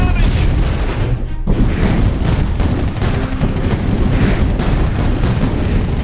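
Artillery fire from the mobile strategy game Art of War 3, a dense, continuous barrage of booms and blasts at steady high loudness with one brief dip, under faint game voice lines.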